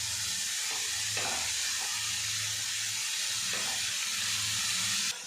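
Grated papaya sizzles steadily in hot spiced oil in a pan while being stirred, a close, continuous frying hiss broken by soft scraping strokes.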